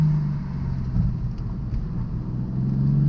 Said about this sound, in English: Downshift in the second. Hit the brakes.